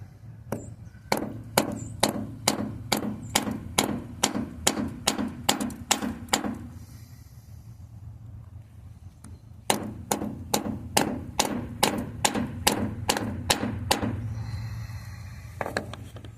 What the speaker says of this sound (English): try to hit it with a hammer and see if I can knock it down flat here